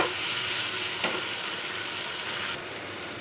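Kochu loti (taro stolons) fry in a pan while being stirred, a loud close continuous sizzle with a brief scrape near the start, softening slightly toward the end.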